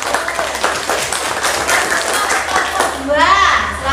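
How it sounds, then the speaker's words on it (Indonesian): A classroom of students clapping for a group, a loud, close, dense round of applause with a voice rising over it near the end. "Ini tepuk tangan dulu untuk kelompok"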